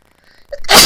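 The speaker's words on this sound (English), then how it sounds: "Excuse me, sneezing there." A single sharp sneeze bursts out at the very end after a brief indrawn breath, close and loud.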